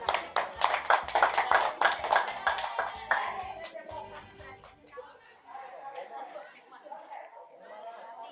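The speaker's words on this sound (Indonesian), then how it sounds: "Tepuk tangan." A group at a meeting claps hands together in a quick, rhythmic burst lasting a few seconds, then the clapping fades into murmuring chatter and voices talking.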